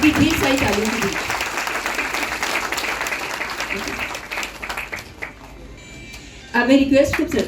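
An audience applauds at a formal government event, with a broad wash of clapping at the start that thins and fades partway through, while a voice on a microphone speaks over it.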